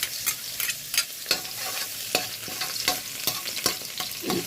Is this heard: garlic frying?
yes